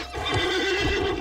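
A horse in the online game Alicia Online neighs with a loud, continuous, wavering whinny that lasts the whole moment.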